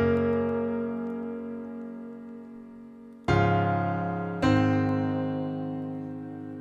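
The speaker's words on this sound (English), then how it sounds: "I'm just going to add in a little bit of reverb into the piano" Sustained piano chords ring out with a soft reverberant tail, two new chords struck partway through, each decaying smoothly into a spacious wash.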